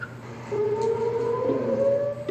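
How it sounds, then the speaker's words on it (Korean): A civil defense siren wails at the Itaewon tragedy memorial in Gwanghwamun Square, its steady tone rising and sustaining loudly over faint background noise. "잇따르는 신고에도 울리지 않았던 사이렌은 3년 만에야 울려 펴집니다"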